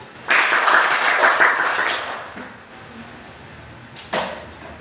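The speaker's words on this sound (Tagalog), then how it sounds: "Bigyan na palakpak ang ating mga Sarili." A short burst of applause from a small group, fading after a couple of seconds, followed by a brief sharp clap or tap.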